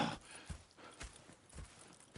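Horse hooves clip-clop at a walk in the video game Red Dead Redemption 2, a faint, steady rhythm of soft thuds roughly every half second.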